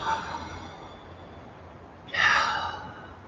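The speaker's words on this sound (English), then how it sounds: "Big exhale, relax your shoulders." During a yoga class, a single audible exhale of breath comes through as a soft, airy rush near the end, after a quieter stretch with a faint breath at the start.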